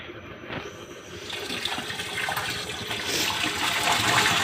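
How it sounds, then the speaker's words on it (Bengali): Water from a 2 HP solar pump with a 3-inch delivery pipe gushes out in a steady, loud broadband rush that builds slightly over the seconds, with no voices. "দেখতে পাচ্ছেন এখানে প্রচুর পানি উঠছে"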